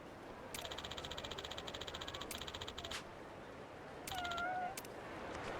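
Repeated meowing from a cat character in Like a Dragon: Infinite Wealth, heard in a rhythmic series of short calls, then a pause and one more short burst, over quiet game ambience.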